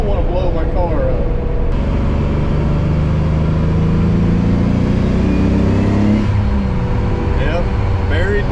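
Twin-turbo Nissan 300ZX engine pulled hard at full throttle, a loud continuous drone with rising pitch that swells and holds, ending abruptly near the end, heard from inside the car.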